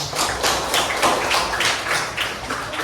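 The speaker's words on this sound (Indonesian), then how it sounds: "Ya, kasih aplaus." A classroom audience claps in a quick, even rhythm, with close, brisk, regular beats for a few seconds.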